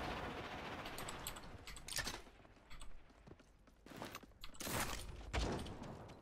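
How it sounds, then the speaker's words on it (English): Scattered bursts of distant gunfire in Realm Royale crack out in uneven clusters over a low background rumble, with no talking. "People shooting us? I hear gunfire."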